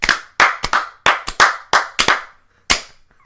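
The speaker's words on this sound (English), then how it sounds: "I clapped like it was the Nationwide thing." A run of sharp, loud hand claps in an irregular rhythm, about nine in all, with brief pauses between bursts and one last clap standing apart near the end.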